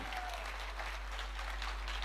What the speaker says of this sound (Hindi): एक बार आप हम दोनों के लिए तालियां बजाइए